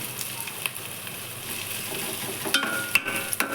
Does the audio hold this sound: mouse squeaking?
no